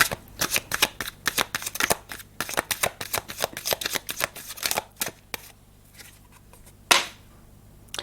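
Tarot cards are shuffled in rapid riffling bursts for about five seconds, then a few lighter slaps and flicks as cards are drawn and set down, close and crisp.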